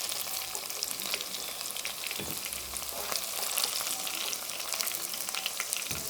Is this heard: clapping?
no